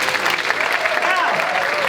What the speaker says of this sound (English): give the Customs House a round of applause as well